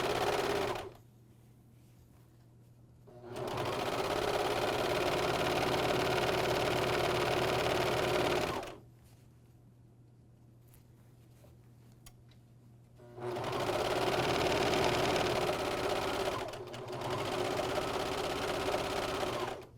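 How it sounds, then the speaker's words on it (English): An AirThread 2000D professional serger stitches and trims the seam of a bathrobe, its motor buzzing in two sustained runs of several seconds each, separated by quiet pauses, close and loud. "Now I can come around with my serger, I don't have to trim it off, and just pick it up like this, and my blade is going to cut that thread for me."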